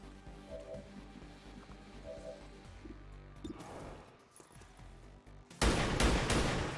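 Gunfire in a zombie shooter video game, the Highlander Mod Jam campaign Undying Loyalty, with a sudden loud burst of shots near the end following quieter game noise.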